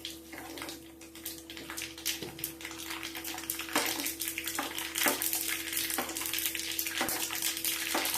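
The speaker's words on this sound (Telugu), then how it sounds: "చక్కగా పోపులా రాగాలి." Mustard seeds, fenugreek and asafoetida tempering in hot oil for tomato dal, with a continuous nearby sizzle and sharp sputtering pops, plus a few metallic clicks against the pan.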